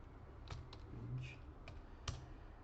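A few soft, sparse keystrokes on a computer keyboard while entering Python commands, with quiet clicks spaced irregularly over low room noise.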